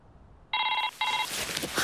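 A mobile phone's message notification chimes twice in quick succession, bright electronic tones sounding close by, followed by a burst of noisy rustling.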